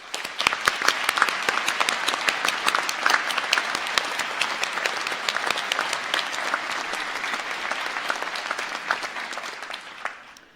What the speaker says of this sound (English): I think they deserve some applause.